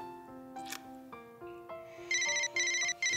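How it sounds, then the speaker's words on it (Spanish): Mobile phone ringtone playing a rising melodic sequence of clear tones, then repeating bright chiming bursts in a steady pattern, close and alone. "Es mi teléfono, ¿me lo pasas?"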